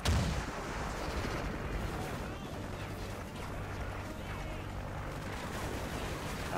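Gunfire in the video game Call of Duty Ghosts rattles and booms continuously over a dense, noisy battle background, with no clear gaps between shots.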